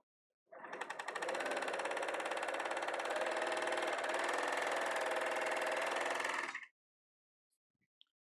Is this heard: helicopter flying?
no